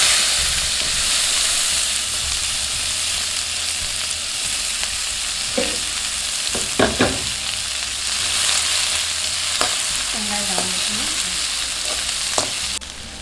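Onions sizzling and frying in hot oil with mustard and cumin seeds, a loud steady crackle with occasional clinks of a spoon stirring.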